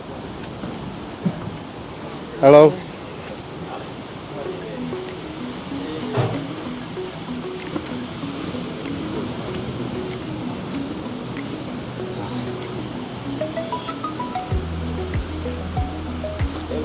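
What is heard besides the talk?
ocean waves breaking on a Sri Lanka beach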